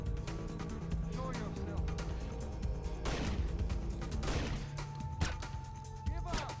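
Heavy, big-caliber gunfire in the Splinter Cell video game, loud repeated bursts and booming shots over a continuous rumble, mixed with voices speaking throughout.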